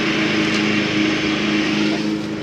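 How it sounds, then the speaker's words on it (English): A lawn mower cuts grass in a backyard, its steady engine drone running loud and close without pause, no voices over it. "I've got young Grady mowing the backyard"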